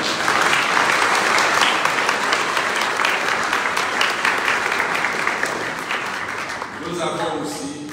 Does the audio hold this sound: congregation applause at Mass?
yes